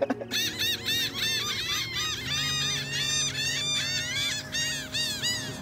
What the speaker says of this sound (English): Birds look hungry.